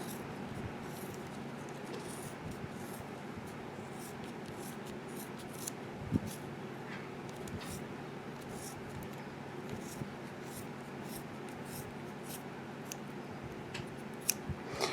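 Scissors cut through fabric or faux leather charm pieces, faint close snips and rustling in quiet, irregular small clicks with occasional louder snaps.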